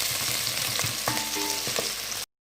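Onions frying in oil in a pan until light brown, a steady close sizzle with occasional spoon scrapes and taps, no voices.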